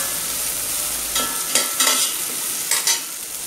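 Potatoes sautéing in a pan with turmeric, chili powder and salt: a soft continuous sizzle broken by a few brief stirring scrapes, close and alone.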